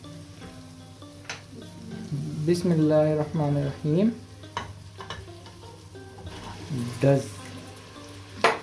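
Beef sizzles and fries in a pot with garlic and ginger for a potato and beef curry, a steady close hiss running under a person's talking.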